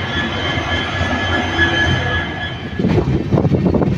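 The Kamrup Express runs through a cold, foggy morning, its loud, steady rumble joined by a faint whine, then by heavier rattling and clattering of wheels and carriages in the final seconds.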